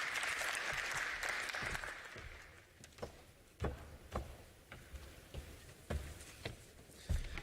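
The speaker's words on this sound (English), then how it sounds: "If we can give him a round of applause as he makes his way to stage" An audience claps as a presenter walks to the stage, a full burst of applause that thins out after about two seconds into scattered sharp claps and knocks.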